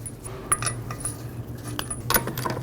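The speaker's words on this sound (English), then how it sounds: "Install the wheel. Get the lug nuts started." Lug nuts being started on a 2007-2011 Toyota Camry wheel give a few close metallic clinks and small jangling taps, scattered irregularly with no talking.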